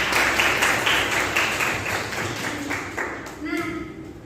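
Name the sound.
classroom applause for a student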